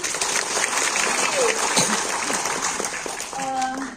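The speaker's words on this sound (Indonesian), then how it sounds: "tepuk tangan semuanya" An audience bursts into sustained applause, a continuous wash of many hands clapping while a voice talks over it.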